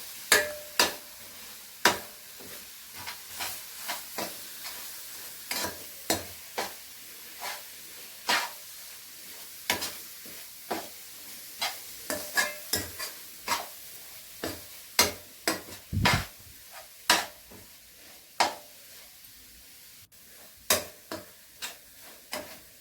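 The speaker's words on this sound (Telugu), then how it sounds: "ఆ రెండింటిని బాగా తిప్పుతూ ఉండాలండి అడుగంటి పోతుంది తిప్పుకుంటూ చూసుకుంటూ ఉండాలి" A spatula scrapes and taps steadily in a pan while coconut pieces and jaggery are stirred together, making repeated sharp clicks over a soft, constant sizzle.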